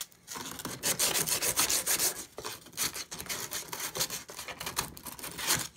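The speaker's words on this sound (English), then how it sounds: "Just gonna mark it up so this fiberglass has something to stick to." Car door surface on a 2011 Jeep Compass being scuffed by hand before fiberglass goes on, rapid rough rasping strokes in uneven bursts, close and fairly loud, with no talk.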